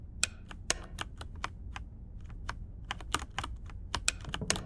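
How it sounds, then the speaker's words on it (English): Rapid, irregular clicking of keys on a computer keyboard during a horror video game, crisp and close, a steady run of keystrokes over a low background hum and no voices. "I was trying to use the keyboard."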